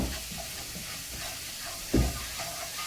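Garlic sauce for eggplant moussaka frying in a pan gives a steady, close sizzle and hiss, with a brief louder clatter of stirring partway through and no talk.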